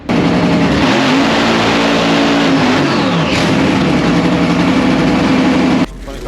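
A drag race car at the IHRA Dragway 42 roars loudly and close, the engine holding a sustained heavy drone with a pitch shift partway through before cutting off abruptly near the end.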